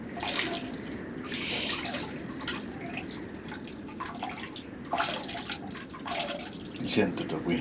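A video game waterfall gives a steady broadband rush of falling water with surging splashy bursts. A voice may be present underneath it.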